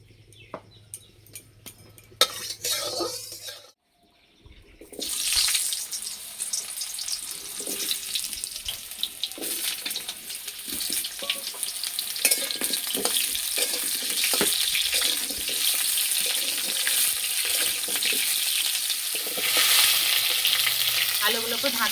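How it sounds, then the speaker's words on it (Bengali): Potatoes fry in mustard oil in a wok, a loud, close, continuous sizzle that bursts in after a brief quiet start and stays busy with crackles and spatters to the end. "প্রথমে আলুগুলো ভেজে নেব, তার জন্য কড়াইয়ে সর্ষে তেল দিয়ে দেবো।"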